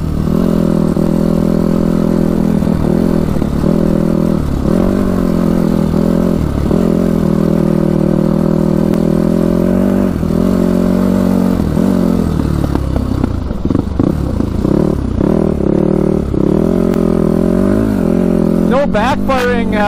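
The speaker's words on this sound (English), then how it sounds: "Backfiring when you're riding." Yamaha YFZ450 quad engine droning steadily while riding, the motor rising and dropping with throttle and crackling backfire pops toward the end, loud and close throughout.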